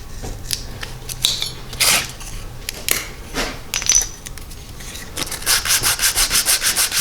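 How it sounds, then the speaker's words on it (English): A razor knife shaves and trims a wooden wedge for seating a replacement axe handle, giving close, scratchy strokes in uneven bursts that end in a quick run of rhythmic rasping cuts. "I'm going to take a razor knife. I'm just going to trim it to the appropriate width"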